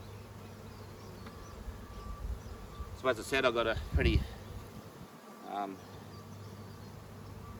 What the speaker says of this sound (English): you can see them fanning there, bees going in.